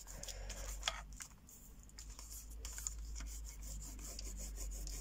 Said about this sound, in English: Give that a real good burnish.